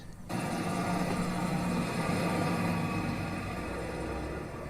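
A helicopter drones steadily after a brief quiet start, a loud continuous engine roar with a low rhythmic rumble that holds throughout.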